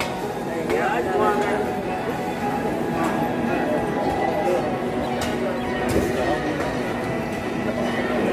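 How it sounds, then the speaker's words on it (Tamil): A Mumbai-bound train with engines at the front and in the middle rumbles and clatters past on the rails near Madurai, a steady rolling noise with rhythmic wheel knocks, while people talk nearby over it. "இதுதான் இந்த மும்பை வண்டி."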